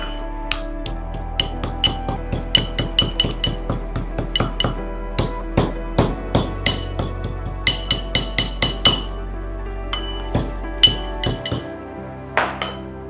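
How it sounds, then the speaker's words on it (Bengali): Sharp, rhythmic pounding of green and black cardamom pods being crushed for a Bengali chicken dak bungalow, dozens of close, hard clinking strikes in quick irregular succession, alone without talk. "ইন দ্য মিন টাইম একটু ছোট এলাচ ছেঁচে নেব, গোটা 5 আর একটা বড় এলাচ।"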